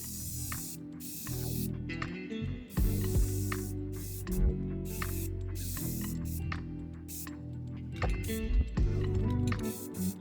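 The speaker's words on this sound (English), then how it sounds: "Now I can take this out to the garage to spray paint it." Repeated bursts of spray hiss from a flat black spray paint can, several long sprays with short gaps, close and loud against a steady low hum.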